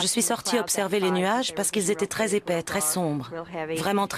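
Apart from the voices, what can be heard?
No distinct noise like a dog, phone or traffic.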